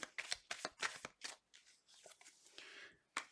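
A deck of tarot cards is shuffled close by in quick riffling bursts, a series of sharp, crisp flutters separated by short pauses, with a final burst at the end.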